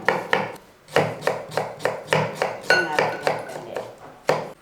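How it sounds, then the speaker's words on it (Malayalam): Fresh ginger thinly sliced with a knife for a Kerala-style ginger curry: a close, steady series of crisp chopping taps against a board, with an occasional light clink. "അപ്പം ഞാൻ ഈ ഇഞ്ചി അരിഞ്ഞെടുക്കാം."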